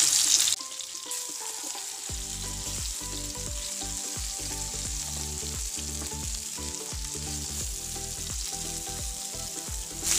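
Surmai fish frying in a pan, a steady close sizzle and crackle of hot oil that runs throughout, with scattered low rattles and taps mixed in and no voices.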